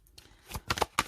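Oracle cards being shuffled and laid out during a tarot-style love reading, a few soft papery riffles and slaps building to three crisp bursts near the end, close and alone with no talk.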